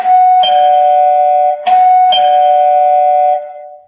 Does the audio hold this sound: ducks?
no